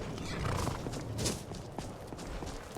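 A horse in Skyrim whinnies in one loud, close neigh, with hoof clops and ambient game noise around it.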